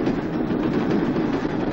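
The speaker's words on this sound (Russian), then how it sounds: "Первый электровоз ведет депутат Верховного Совета РСФСР Аркадий Мотов." A first electric train of 1958 on the Moscow–Ryazan line, part of the Trans-Siberian route, rolls past in a loud, steady rumble with a continuous rattling roar of wagons and no voices.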